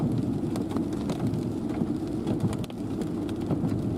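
Hailstones pelt down in a storm over NW Kansas and SE Nebraska, a dense, steady patter of impacts with scattered sharper hits and a low rumbling wash underneath.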